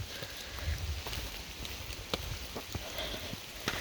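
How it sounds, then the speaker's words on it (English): Rain falling steadily on an Appalachian Trail hiking path, a quiet continuous patter with scattered sharper close drips and soft thuds, no talk. "And now it's still raining."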